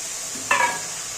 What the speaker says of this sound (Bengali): এবার একটু জল দিয়ে কষিয়ে নেব ভালো করে।